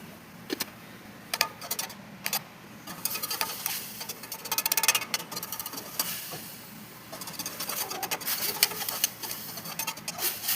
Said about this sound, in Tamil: இப்போது சிறு துண்டுகளாக வெட்டி வைத்த தக்காளி துண்டுகளை எண்ணெய் விட்டு நன்கு வாணலியில் நீர் வற்றி சுருங்கி வரும் வரை வதக்கவும்.